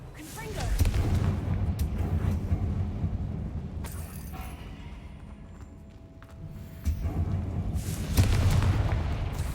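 Explosive Confringo spell blasts in the Hogwarts Legacy video game, two loud booming bursts with rumbling tails separated by a quieter stretch, with speech mixed in.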